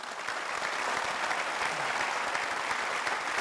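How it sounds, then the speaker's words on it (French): Steady, dense applause from an audience greeting Pope Francis after a welcome speech by the authorities of Azerbaijan, filling the whole stretch evenly with no voices over it. "Voilà un discours applaudi"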